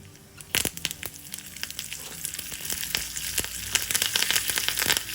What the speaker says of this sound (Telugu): ఇప్పుడు దీనిలో కరివేపాకు వేసుకుందాం.